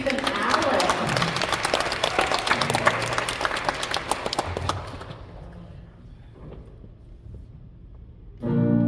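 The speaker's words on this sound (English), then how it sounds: "Let's give a round of applause for Mike, accompanied by Amy, Steve, and Alex." Audience applause for a stage performer at an anniversary celebration show: dense, loud clapping from a crowd for about five seconds, fading out into quiet before a short burst of sound returns at the end.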